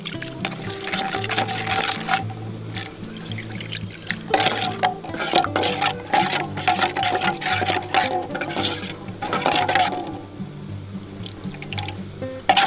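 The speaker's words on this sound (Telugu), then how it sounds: "కొన్ని నీళ్ళు యాడ్ చేయండి." Water is poured and stirred into a chicken curry on a clay village stove, a continuous sloshing, splashing churn that stays fairly loud throughout, with no talking.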